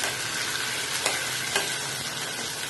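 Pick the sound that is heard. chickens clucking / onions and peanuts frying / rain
onions and peanuts frying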